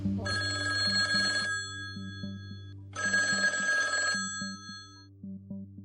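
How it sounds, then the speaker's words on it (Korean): An old-style telephone bell rings in two long bursts of metallic jangling, loud and close, with a steady low hum and a soft repeating tick running underneath throughout. "시계바늘이 밤 8시를 가리킬 무렵 전화가 울립니다."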